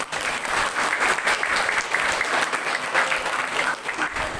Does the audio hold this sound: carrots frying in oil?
no